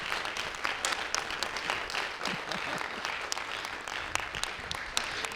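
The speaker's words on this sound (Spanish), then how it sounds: "Un gran aplauso para el Milo" A crowd claps at a book presentation, giving sustained, even applause with crisp individual hand claps standing out across the whole stretch, close and lively with no talking over it.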